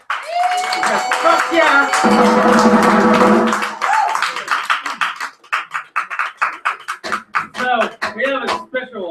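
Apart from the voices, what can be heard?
audience applause for poetry performers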